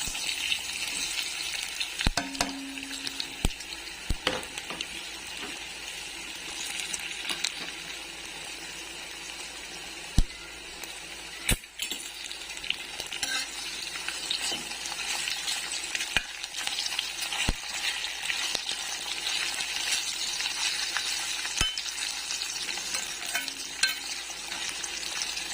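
Potato chips and sesame seeds stir-fry in a hot pan, a steady bright sizzle with occasional sharp clinks of a spatula against the metal throughout, no voices.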